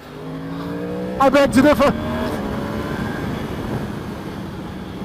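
A 2020 Yamaha R1M sport motorcycle rides along the road with a steady engine drone and wind roar, while someone speaks briefly over it.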